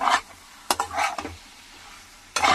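Scraping stirs of taro leaves frying in a pan come in short bursts over a faint sizzle, with a few clinks of a utensil and brief pauses between strokes.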